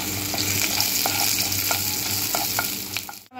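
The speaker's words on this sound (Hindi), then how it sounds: "अब ये गार्लिक डाला, इसको भी हल्का सा भूनेंगे" Garlic fries gently in a pan over low heat, giving a steady sizzle broken by the repeated scrape of stirring, with no talk, before the sound cuts off at the end.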